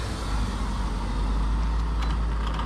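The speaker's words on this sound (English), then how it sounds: "Gotta let the cars pass." Cars and trucks roll past on a road, a loud continuous low rumble of engines and tyres with a slight swell partway through, no speech.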